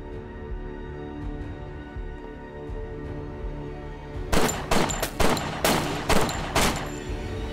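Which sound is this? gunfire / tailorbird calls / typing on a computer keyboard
gunfire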